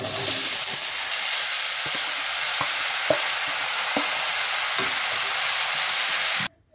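Winter vegetables hiss loudly as they fry in oil with fried onion and chilli, a continuous close sizzle broken by a few sharp clinks of a utensil against the pan.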